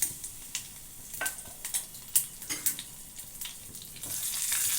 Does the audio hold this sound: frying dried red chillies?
yes